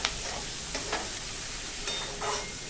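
Chopped onion or spring onion greens sauté slowly in a pan over a low gas flame, giving a soft, steady sizzle with a few faint stirring scrapes.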